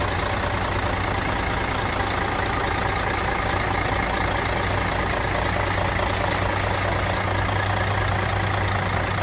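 A 2011 Mercedes Actros 3348 6x6 truck idles with a loud, continuous diesel rumble that stays steady and close, with no talking.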